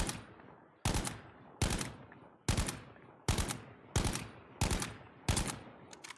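Battlefield V gunfire in-game: eight sharp, loud shots spaced evenly about three-quarters of a second apart, each with a long decaying tail, no voices.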